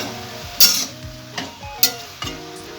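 Spinach being stirred in a pan with turmeric and cumin, with a few sharp scraping clinks of the spoon against the pan over a soft background sizzle.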